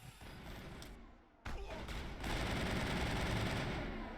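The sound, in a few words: assault rifle gunfire in the video game Mass Effect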